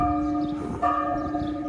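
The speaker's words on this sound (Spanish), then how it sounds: "Justamente ahorita están tocando las campanas," Church bells ring at the parish church of San Francisco de Asís in Chapala, Jalisco, with sustained overlapping tones heard clearly at moderate distance and a fresh strike near the middle.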